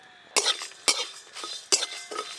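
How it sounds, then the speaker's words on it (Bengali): Whole cumin, coriander seeds, fennel and two dried red chillies dry-frying in a pan: sharp, close crackles and pops arrive in a few distinct bursts, each followed by a brief hiss, with no talking. "গোটা মশলা ভাজা হচ্ছে, তত চটপট চটপট করে আওয়াজ হচ্ছে, দেখো"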